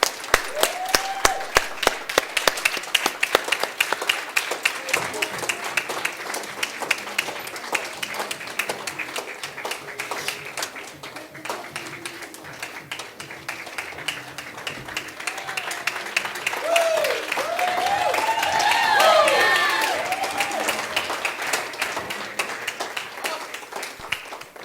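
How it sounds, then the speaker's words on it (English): An audience claps for a speaker at a live event, a dense and sustained wash of many hands that swells near the end. Voices and cheers rise faintly within it. "let's have a big round of applause for Keith Boyd"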